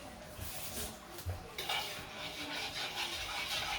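A spoon stirs soft pretzel dough in a bowl, giving a steady, faint, wet scraping and sloshing that gets a little brighter partway through, with no voices.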